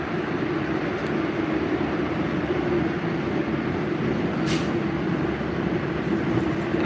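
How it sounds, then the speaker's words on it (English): An MBTA Red Line train arriving at a station at night gives a loud, steady rumbling roar throughout, close by, with a brief high squeal partway through and no voices. "Another train coming."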